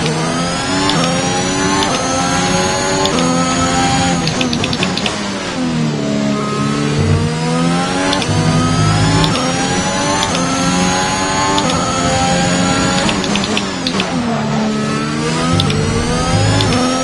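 Race car engine in an F1 video game, loud and continuous, revving up and down through repeated rising and falling gear sweeps, alone with no talk.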